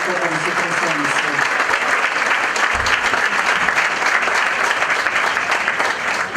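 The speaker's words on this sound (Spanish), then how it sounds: "les pido un fuerte aplauso y agradecimiento por su presencia" A conference audience on economic scenarios gives sustained, loud applause, a dense steady wash of clapping lasting the whole stretch with a faint voice underneath.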